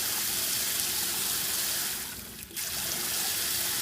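A vehicle-mounted hot water shower head sprays water in a steady, close, full hiss that dips briefly in the middle before resuming at pressure.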